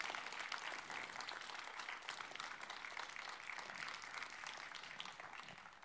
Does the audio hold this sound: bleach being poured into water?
no